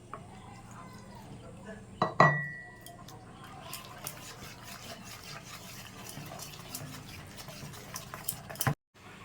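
Jilapi batter of flour and water being beaten in a bowl, a steady soft scraping and tapping running throughout with a louder clatter near the start, close and moderately loud.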